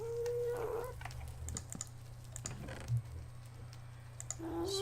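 Minecraft chickens in the Project Ozone modpack make short clucks, one near the start and one near the end, over soft keyboard typing and a low steady hum.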